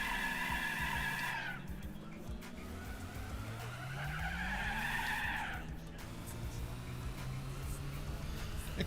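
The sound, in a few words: car wheel spin at low revs in Gran Turismo 4 video game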